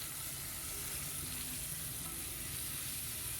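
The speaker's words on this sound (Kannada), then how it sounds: "ಇದು ಕೂಡ ಸ್ವಲ್ಪ ಹೊತ್ತು ಫ್ರೈ ಮಾಡ್ತೇನೆ ಅದೇ ಎಣ್ಣೆಯಲ್ಲಿ" Chopped tomato fries in oil left from earlier frying, giving a steady, soft sizzling hiss that carries on evenly without any voices.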